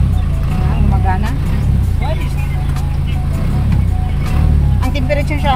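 An Isuzu 4HF1 semi-electronic diesel engine idles steadily with a loud, continuous low rumble that holds throughout, while a voice can be heard talking over it.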